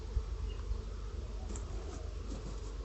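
Honey bees humming inside an opened backyard beehive during an inspection, a steady low drone of wingbeats close by with faint buzzes passing near, no talk.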